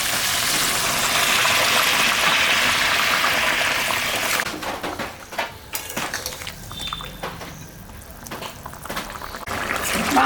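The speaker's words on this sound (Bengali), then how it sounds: "গরম জলটা এখন আমি দিয়ে দিই।" Hot water poured into a pan of browned chicken kosha: a loud steady rushing pour for about four seconds, then quieter bubbling, clinks and spattering simmer.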